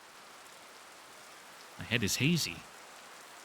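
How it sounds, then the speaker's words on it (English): Rain in the Tsukihime Remake visual novel falls as a soft, steady, distant hiss that runs the whole time, with a voice speaking briefly over the middle of it. "Long and gentle hiss of rainfall touching down."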